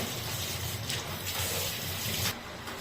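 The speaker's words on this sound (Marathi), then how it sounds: "अशा प्रकारे आम्ही तांदूळ धुतलेले आहेत." Water gushes and splashes as rice is rinsed for khichdi in a home kitchen, with uneven pours and swishes over a steady running-water wash, close and moderately quiet.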